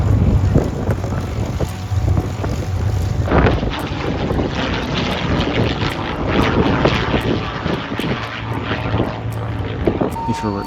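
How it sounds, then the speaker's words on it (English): A propeller aircraft flies over the Duxford Air Show near Cambridge, its steady engine drone continuous and fairly loud, mixed with gusty wind noise on the microphone. "Hurricanes, and even a Lancaster bomber taking to the skies in breathtaking formation displays"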